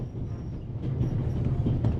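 A train running, heard from on board, makes a steady low rumble that swells slightly after the first second and stays close and even for the brief stretch, with no speech.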